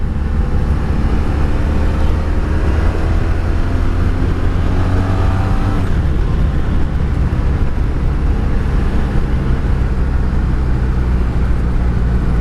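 A 1985 Honda Magna V65 VF1100C motorcycle on the move, heard as a loud, continuous engine drone wrapped in heavy wind rumble, with a brief pitch change partway through like a gear shift.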